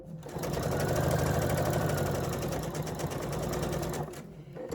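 Sewing machine running continuously while stitching long pieced sashing strips for a quilt, a close steady mechanical hum that stops abruptly near the end.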